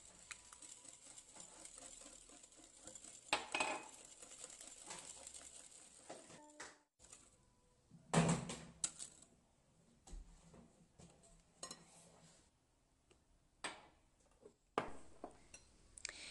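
Cake batter being stirred by hand in a bowl at home while vegetable or sunflower oil is poured in for a Moroccan coconut Richbond cake, giving soft, irregular scraping and clinking taps of a utensil against the bowl, quiet and close.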